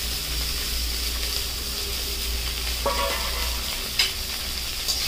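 Green chillies with chopped ginger and garlic hitting hot oil for an egg shahi korma, a steady loud sizzle close by with a couple of clinks and spatula scrapes near the end.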